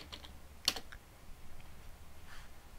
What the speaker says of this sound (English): So I would type VR none